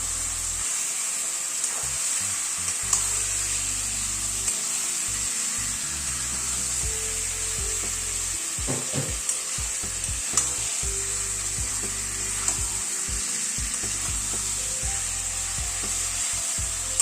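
Five hundred grams of chicken sautéing with tomato and spices in a pan for a light curry, a steady close sizzle with repeated scraping and stirring strokes of a spatula throughout, no voices.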